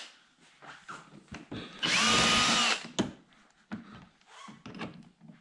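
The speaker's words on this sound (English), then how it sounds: "We're going to take these off, both sides, and all these screws right here off." A power drill whirs in one sustained burst of about a second, backing screws out of the front splitter on a C7 Corvette, with quieter handling clicks and knocks before and after.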